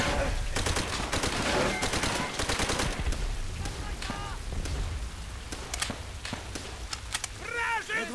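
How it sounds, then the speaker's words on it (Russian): Dense bursts of machine gun fire in the World War II shooter Call of Duty: World at War crackle loudly and unevenly, mixed with scattered shots, battle noise and shouted voices. "Пулемет!"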